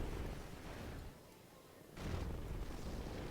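Mortar barrage in Rise of the Reds, a mod for Command & Conquer Generals: a rumbling run of booming impacts that dips briefly, then resumes with a fresh burst of dense, low blasts.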